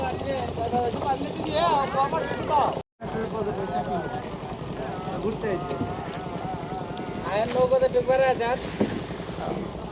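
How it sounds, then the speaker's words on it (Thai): A hand-rowed ferry boat crosses the Turag River in Bangladesh, with water and wind noise rolling steadily beneath near, continuous talk from people aboard. "แต่ที่นี่มีครับพายเรือข้ามฟากครับ"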